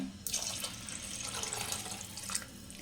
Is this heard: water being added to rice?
yes